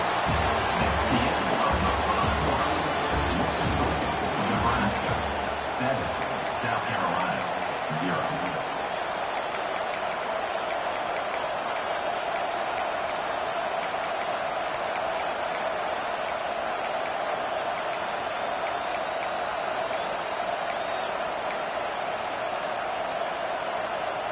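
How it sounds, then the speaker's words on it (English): Loud, dense stadium crowd roar in a college football video game, a steady wash of cheering noise sustained throughout, with some low rumble and commentary-like voices early on. "This crowd busting the decibel meter and trying to will a fourth down stop."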